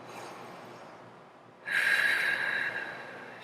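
Deep breathing during an energy healing exercise, a quiet soft exhale followed by a strong, close airy inhale or sniff through the nose lasting over a second, no talk.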